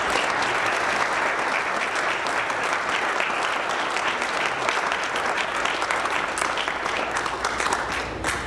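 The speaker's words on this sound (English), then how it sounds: "let's give Wayne a round of applause" A large audience at a Rotary Club Veteran's Day program applauds a veteran with steady, dense clapping that holds at full strength throughout without a break.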